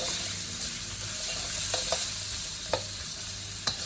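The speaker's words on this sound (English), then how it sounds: "we just saute the onion" Onion sautés in hot oil in a pan, a steady close sizzle broken by a few sharp stirring clinks and scrapes, with no voices.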